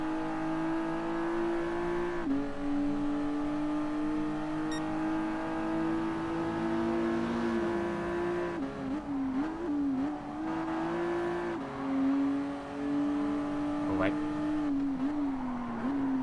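Race cars roar through a Gran Turismo Sport race on PS4 with a steady, loud engine drone whose pitch holds, dips and climbs again through gear changes, while a voice talks over it.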